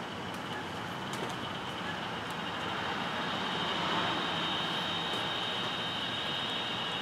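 An open fire burns steadily while a rabbit roasts over it, giving a dense, even roar and hiss with faint crackles throughout.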